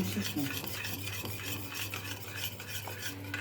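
Steady scraping of a spoon stirring sugar in a pan as it melts, a continuous close rasp with light clinks, no talking.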